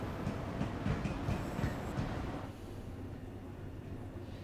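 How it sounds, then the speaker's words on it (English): A London Overground Purple Line train in Train Sim World 5 rumbles past at Stratford with rhythmic wheel clatter, loud for about two seconds before the noise drops away to a steady low hum. "There's a Purple Line train going through."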